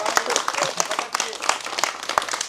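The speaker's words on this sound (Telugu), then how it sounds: "గట్టిగా క్లాప్స్." A crowd at a Ganesh festival youth association gathering claps loudly, a brisk burst of applause lasting a couple of seconds with some voices mixed in.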